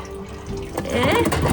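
Water poured into a pet's cup outdoors, a short splashing stream that builds in the last second, fairly close and alone.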